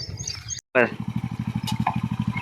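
A motorcycle engine putters with a rapid, even thump, getting louder as it approaches, with a voice speaking briefly at the start.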